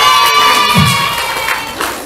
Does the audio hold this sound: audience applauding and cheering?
yes